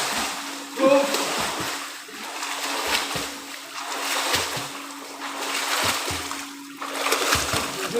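Water splashes and sloshes as people swim in a river, with an irregular, fairly close splashing texture throughout and voices calling out now and then.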